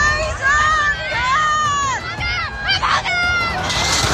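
A sword-wielding mob riots at a gurdwara, smashing barricades and chasing police, heard as loud crowd shouting and yelling throughout with high excited cries and a dense babble of voices close by.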